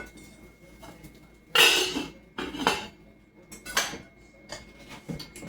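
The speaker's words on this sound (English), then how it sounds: "I'm going to put the lid on here" A lid set onto a pot of cheese grits on a slick stovetop, a few close metallic clanks and rattles with softer knocks between them.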